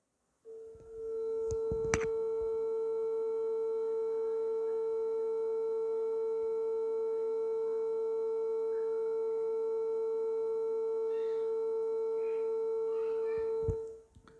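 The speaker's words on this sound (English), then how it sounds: "you are going to hear the sound of frequency 448 hertz." A steady pure 448 Hz sine tone from a signal generator holds at one pitch for about thirteen seconds, constant and unwavering, with faint clicks at the start and end.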